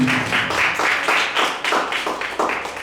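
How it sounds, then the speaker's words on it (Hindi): A church group claps in quick, uneven bursts, the rhythm pulsing across several seconds as if an audience is applauding together. "जोरदार ताली बजाएंगे।"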